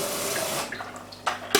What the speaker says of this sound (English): And we'll get some more water to pour over the top.